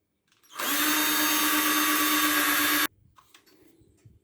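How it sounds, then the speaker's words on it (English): A power drill bores a pilot hole for a door closer in one continuous loud whine lasting just over two seconds, then stops, leaving faint handling noise. "Always drill two pilot holes."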